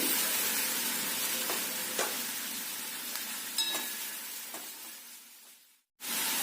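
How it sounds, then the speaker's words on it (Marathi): Onion, dried red chillies and chopped tomato masala sautéing in oil in a pan, a steady close sizzle with a few faint scrapes of a spoon, fading softly before a brief cut near the end. "मी अगदी तेल सुटूपर्यंत हे छानसं परतून घ्यायचंय"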